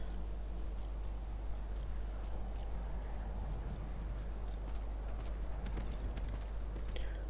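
Horse hooves walking in a video game ice environment, a soft continuous clip-clop running steadily under ambient game noise, fairly quiet throughout.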